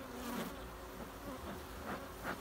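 Honey bees swarm and buzz around an open beehive during a hive inspection with frames and honey supers, a steady close drone with brief louder passes as individual bees fly near.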